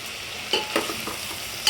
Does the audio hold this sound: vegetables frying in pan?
yes